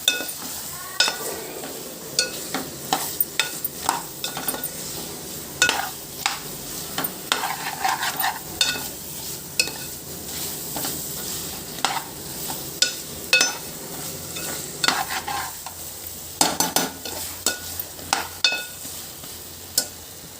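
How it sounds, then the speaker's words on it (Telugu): Drumstick tomato curry is stirred in a pan, a spoon scraping and clinking against metal in irregular bursts over a low background sizzle, continuing steadily for about twenty seconds up close. "ఇలా కలుపుకోవాలి పచ్చివాసన పోయినంత వరకు."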